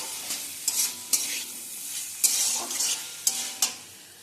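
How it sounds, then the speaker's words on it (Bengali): Pumpkin and potato with spices stir-fried in a pan, a steady sizzle broken by repeated sharp scraping strokes of a spatula, close and fairly loud with no voices. "এরপর এগুলো দিয়ে এটাকে আরেকটু ভালো করে কষাবো"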